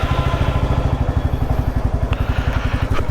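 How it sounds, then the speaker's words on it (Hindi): A Royal Enfield Classic 350 motorcycle engine runs close and loud with a steady, rapid thumping beat, idling evenly with no voices. "गाड़ी करते हैं शुरू"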